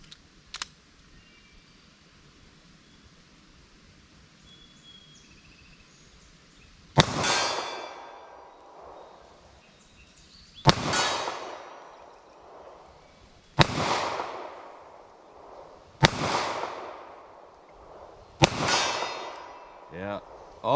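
Snub nose revolver shots fired at a target, with five sharp, loud cracks spaced a few seconds apart after a quiet stretch, each followed by a brief ringing decay.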